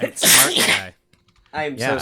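One sharp, loud sneeze bursts out during a podcast conversation, followed by a short pause before people resume talking.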